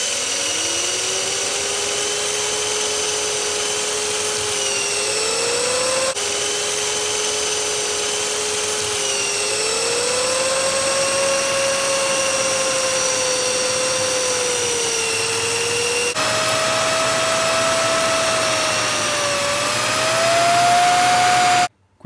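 A 24-volt cordless drill spinning a washing machine motor used as a generator, a steady high whining hum with shifting pitch as the speed changes, continuous and loud up close before cutting off abruptly.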